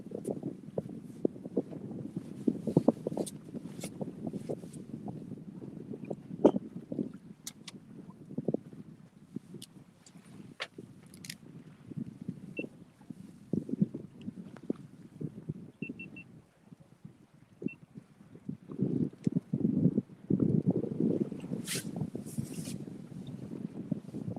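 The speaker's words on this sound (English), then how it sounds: "It looks like we're dragging anchor with all this wind we got going on." Strong gusting wind buffets a fishing boat riding at anchor on the water, producing a steady low rumble with irregular bumps and knocks across the whole span and no voices.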